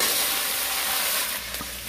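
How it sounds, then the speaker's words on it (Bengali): Panch phoron spices sputter and crackle in hot oil over medium heat, a dense close sizzle that eases slightly as raw jujubes go into the pan, no talking. "5 ফোড়ন চিরবিরিয়ে ফুটে উঠলে কুলগুলো দিয়ে দেব।"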